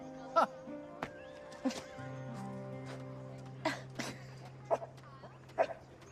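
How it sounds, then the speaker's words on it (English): A dog gives several sharp, separate barks at irregular intervals, fairly close, over a sustained low musical hum. "Why are you barking?"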